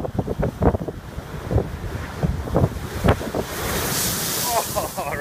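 A wave surges toward the shore at high tide, a rising wash of surf swelling under gusty wind noise on the microphone, with people talking nearby over the churning water.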